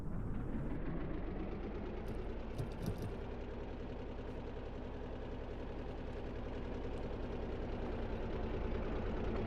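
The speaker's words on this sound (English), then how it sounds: "here comes the drill. You can hear it starting to turn." Engine-driven drill in a video game spinning up as it begins to turn under load, a steady mechanical drone with a rhythmic knocking pulse that holds throughout, alone with no talk.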